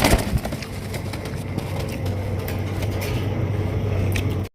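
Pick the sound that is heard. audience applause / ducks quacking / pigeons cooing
pigeons cooing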